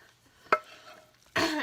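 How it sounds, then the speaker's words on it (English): A woman coughs once briefly, then a louder, longer cough burst a moment later, fairly close in a quiet room. "She's coughing all in that while she's making it."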